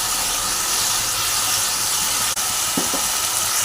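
Masala sizzles in oil while being sautéed for a bhetki fish curry, a loud, dense, unbroken hiss with a couple of faint stirring clicks near the end.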